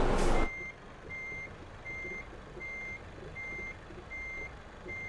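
Truck reversing beeper in Euro Truck Simulator 2 during a parking manoeuvre: a steady run of evenly spaced electronic beeps over low engine rumble, following a brief loud burst at the start.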